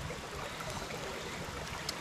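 Faint, steady rush of river water flowing past a riverside gold-prospecting camp, a continuous low burble with no voices.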